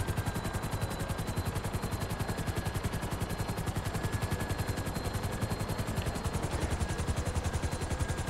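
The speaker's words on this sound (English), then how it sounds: "I hate these helicopters" A helicopter in Grand Theft Auto V gives a steady, rapid rotor chop that pulses evenly and continuously, loud and close, with no talk over it.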